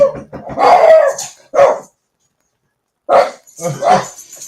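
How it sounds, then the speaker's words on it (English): A dog barks sharply and excitedly after a knock on the door, a close, loud burst of several barks, then a pause of about a second before two more barks. "my dog goes berserk whenever somebody knocks on the"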